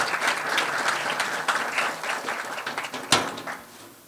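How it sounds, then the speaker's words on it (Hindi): Audience applauding at an art exhibition inauguration and award ceremony as a guest is welcomed, a dense burst of many hands clapping that swells, then thins and fades over a few seconds, with one sharp knock near the end. "आप चाहेंगे कि जोरदार तालियों के साथ इस अभिनंदन में"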